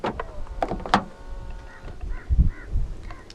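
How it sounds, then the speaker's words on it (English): A few short electronic chirps from a 2019 Hyundai Tucson locking, close by, mixed with soft mechanical clicks and a couple of low thuds near the end. "To lock the car, press the black button on any of the front door handles."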